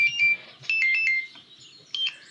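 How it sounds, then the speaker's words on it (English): A phone alarm set as a reminder to feed pets rings with bright, repeating electronic tones in short bursts, close and clear. "That is my feed pets alarm."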